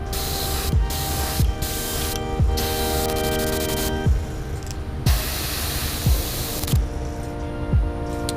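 A paint spray gun lays a light coat of opaque white onto a custom crankbait fishing lure, loud hissing bursts broken by short pauses over a steady compressor hum.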